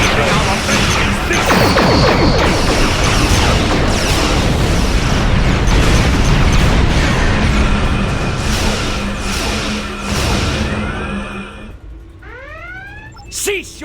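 Klingon ships' weapons fire in Star Trek Online, a dense, loud barrage of crashing blasts and explosions rolling continuously for around twelve seconds, then subsiding into quieter sweeping tones.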